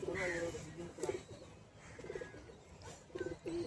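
Madrasi ablak high-flyer pigeons of the bond-tail kind give repeated short cooing bursts, about five soft throaty pulses spread over a few seconds, quiet and fairly close.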